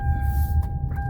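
A steady electronic car warning tone sounds continuously over a low engine rumble, close by and fairly loud.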